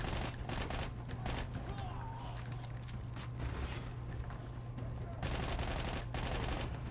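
Sustained gunfire in Army of Two: The 40th Day, rapid machine-gun bursts and single shots clattering almost continuously over a low rumbling game backdrop, loud and near.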